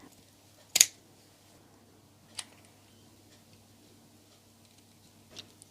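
Scissors cut lace and pearl ribbon to size on a shabby chic love heart wreath, giving three sharp, isolated snips spaced seconds apart in an otherwise quiet room, the first one loudest.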